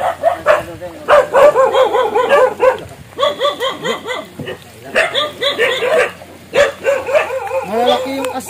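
Large dogs barking in bursts, loud and near, with yips and whimpers between volleys while people talk over them.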